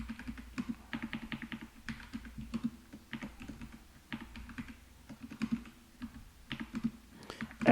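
Someone types code on a computer keyboard, quick bursts of clicky keystrokes with short pauses between, close and fairly quiet, no talking.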